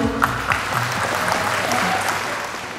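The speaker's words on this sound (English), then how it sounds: "Please give a round of applause for our Goodrich family." An audience at a company's silver jubilee anniversary celebration in Indonesia gives dense, sustained applause that fills the room evenly, with faint voices mixed in.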